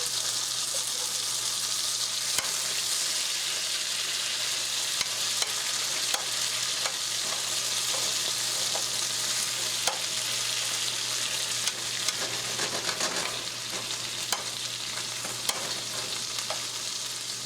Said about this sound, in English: I'll take what's left over of my roast with the potatoes and put it right in there on that hot butter